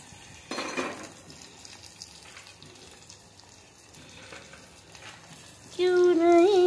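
Tomatoes drop into a hot frying pan of mataka khichadi with a brief hiss, followed by a quiet stretch of low kitchen noise before music starts up.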